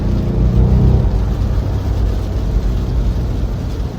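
A Mercedes S-Class with a 420-horsepower V8 produces a steady, fairly loud low engine drone through the cabin speakers in its powerful mode, with a slight swell near the start before it settles.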